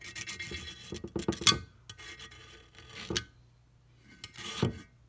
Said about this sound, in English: you can see how I'm scraping it off as I go